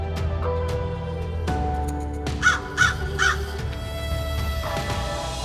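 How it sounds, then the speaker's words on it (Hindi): A crow caws in a 3D cartoon, three sharp, evenly spaced caws ringing out clearly over a soft background of music. "तभी कौवा उड़कर शहर गया।"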